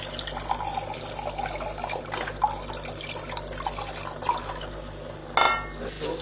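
Beef stock poured into a casserole pan of beef and red wine sauce makes a soft, continuous trickle with small splashes, ending in a sharp clink.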